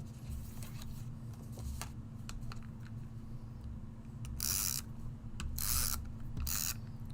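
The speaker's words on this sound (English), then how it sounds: "Using the Gina K tape runner, my favorite" A Gina K tape runner lays adhesive in several quick, dry ratcheting rasps, close and fairly faint, over a low steady hum.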